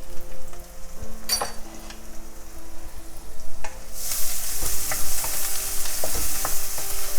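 Onions frying in a pan with a steady sizzle and occasional stirring scrapes, the hiss rising noticeably louder partway through, with no voices.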